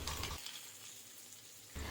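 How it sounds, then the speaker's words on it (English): Prawns fry in hot oil in a pan with a steady, soft sizzling hiss that dips briefly in the middle before returning at full strength. "we'll continue frying the rest of the prawns in the same way"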